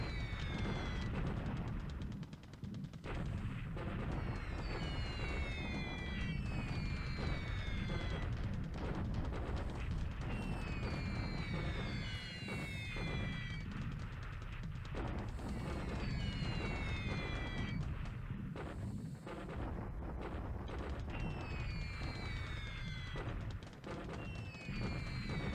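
Bombing raid explosions in a WWII strategy game set in March 1942, with P-38s over Moulmein: dense, continuous rumbling blasts and crackling bursts fill the whole stretch, loud and near, with whistling streaks layered on top and no talk.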